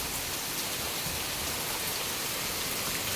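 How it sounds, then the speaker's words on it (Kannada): Heavy rain pours down in a steady, dense hiss, close and continuous throughout with no voices. "ಫುಲ್ಲು ಜೋರು ಮಳೆ ಗೈಸ್"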